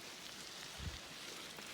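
Light rain patters steadily outdoors at a trailhead after a bike ride, a soft even hiss with a single low thump partway through and no voices.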